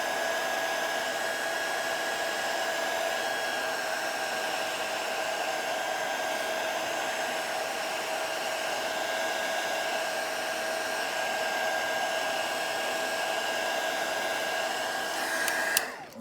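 A heat gun blows a steady, loud whooshing hiss while heating the digitizer of a Galaxy Tab 3 tablet during a cracked screen repair, running continuously and alone before cutting off at the end.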